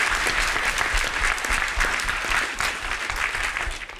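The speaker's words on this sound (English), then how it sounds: "How about another round of applause for generous," An audience applauds a singer, a dense, loud, steady wash of clapping that tapers slightly toward the end.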